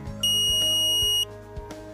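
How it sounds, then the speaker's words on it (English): A single long, high electronic beep from a Kwikset SmartKey smart lock as its battery pack is installed, sounding for about a second, clear and close, with a few faint clicks around it. "Once the battery pack is installed, you will hear a long beep."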